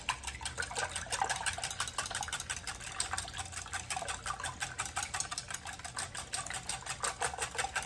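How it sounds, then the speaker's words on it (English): Eggs and vegetable oil being stirred together in a bowl for an upside-down pizza casserole, giving a steady, rapid run of clicking, scraping strokes close up with no talking. "we're gonna stir that up really, really well. Make sure that the eggs are broken up."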